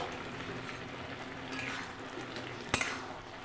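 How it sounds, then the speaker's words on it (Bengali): A lid lifted off a pot of spinach cooking with lentil dumplings, one short metallic clink with a brief rattle, standing out against a low, steady kitchen background. "ঢাকনাটা খুলে দেব।"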